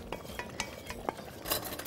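Ladle scraping and clinking against a metal pot while serving taro and meat stew, a few sharp taps and stirring scrapes over a soft bubbling background, close and without talk.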